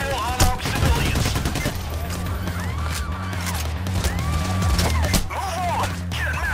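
Rapid, loud bursts of automatic gunfire in the video game Payday The Heist, overlapping shots with sharp cracks, alongside in-game voices and whooping siren-like tones in the background.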